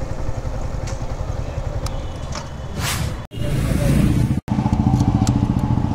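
Yamaha R15 V4 motorcycle (2024 model) riding along, its steady engine drone and road rumble continuous and close, with two brief dropouts in the middle.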